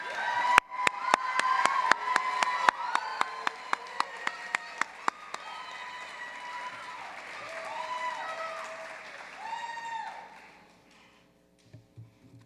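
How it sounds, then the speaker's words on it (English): Commencement crowd applauding Bachelor of Science graduates: dense clapping with sharp hand claps, then fading into crowd murmur with a few cheers and whistles before falling quiet. "Please join me in another round of applause for our Bachelor of Science graduates."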